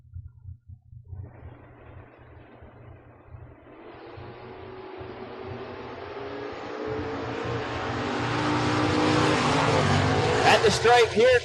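A Camaro and a Mustang launch in a drag race, engines swelling from a low rumble into a loud, rising high-revving roar that builds steadily and peaks near the end, with an announcer talking over the start.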